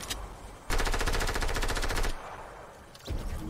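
Rapid SMG bursts fire in Fortnite, a loud dense automatic stream lasting over a second, then another short burst begins near the end, with no talk.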